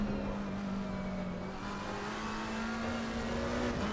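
A race car in Assetto Corsa Competizione holds a steady, loud engine drone on throttle, a continuous close whine that rises slightly in pitch, with no talking.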